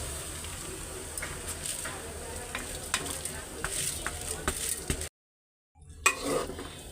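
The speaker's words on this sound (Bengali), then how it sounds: "ডাল চালটা ভালো করে ভাইজা নিতে হবে" Lentils and rice being fried and stirred in a pot for khichuri, a steady sizzle with spoon scrapes and clinks against the pot, close and continuous, briefly cutting out near the end before resuming.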